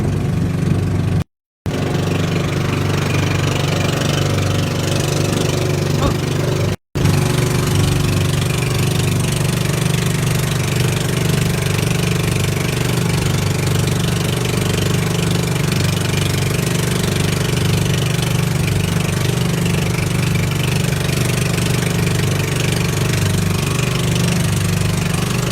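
A roofed motorboat's engine near Gaspar Island runs at a steady, droning idle, loud and close, with a low throbbing hum that barely changes throughout.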